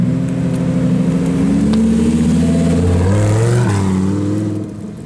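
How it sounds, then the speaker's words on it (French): A Ferrari 360 sports car, fitted with a full Challenge Stradale kit, arriving at a car meet: a steady, loud, close engine drone with rising revs and a pitch shift, then easing off at the end. "Ferrari 360 qui arrive."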